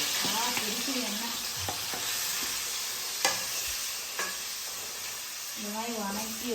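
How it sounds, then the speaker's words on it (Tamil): Tomatoes fry in splattering hot oil on a low flame for tomato pickle, with a steady sizzle and occasional sharp pops and spits close by, while a voice talks briefly over the cooking. "தெரிக்குது எண்ணெய்."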